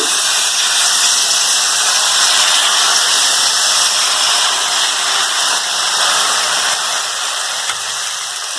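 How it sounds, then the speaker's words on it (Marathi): Continuous loud hiss of steam rising from a hot griddle cooking rice amboli, steady throughout and fading slightly at the end. "हे पा तव्यावरनं आता वाफ यायला लागला"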